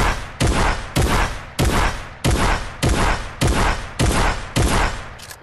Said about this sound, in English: To get just a rate of how fast this thing fires, the combat shotgun is not full auto